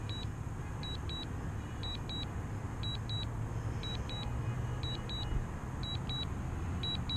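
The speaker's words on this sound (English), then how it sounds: "Some asshole playing with a fucking car horn." A distant car horn is tooted in irregular pairs of short, high beeps, faint over a constant low rumble of wind or engine noise.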